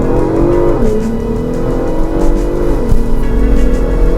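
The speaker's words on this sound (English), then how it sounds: "It's dropping the gears, but it's keeping the revs high, so we don't lose our momentum even with that." A Ford Bronco Raptor engine revving high as the transmission drops gears while slowing, a loud, sustained drone with pitch dips at each downshift and a rumbling exhaust underneath.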